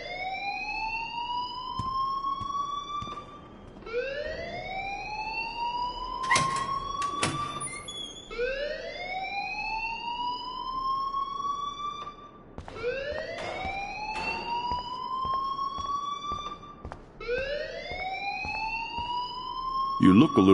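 A loud, repeating electronic alarm rings in a PS4 video game. It sounds as a rising siren-like wail that sweeps up roughly every three to four seconds and stays steady, with a few sharp clattering hits in between.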